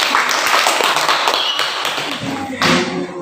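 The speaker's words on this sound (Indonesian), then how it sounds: "kita berikan aplaus untuk kita semua" Students applauding together in a classroom at the close of a group presentation, a steady, dense patter of many hands clapping at once that runs throughout, with a brief swell near the end.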